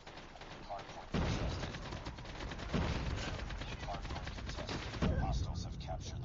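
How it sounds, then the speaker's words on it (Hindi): Gunfire and explosive blasts in the mobile shooter Call of Duty Mobile on a Russian map: dense, rattling volleys with several heavier booming hits, fairly quiet and continuous, with a voice talking over the action. "भाई रॉकेट लॉन्चर चला रहा है"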